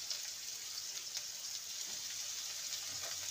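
Potatoes frying in a pan give a steady, soft sizzle with faint crackles and pops, an even hiss throughout with no voices.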